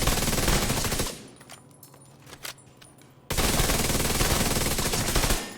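Rapid automatic fire from an assault rifle in a shooter video game, a dense loud burst, a pause with scattered shots, then another long sustained volley.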